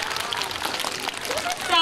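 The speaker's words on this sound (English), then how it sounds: "Warm applause." Modest applause from students at a school assembly, a soft spread of clapping from across the room, with a voice speaking over it near the end.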